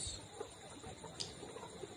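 Quiet, scattered clucking from 20-week-old layer pullets close by on a farm of about 3,500 birds, with a brief higher squawk partway through.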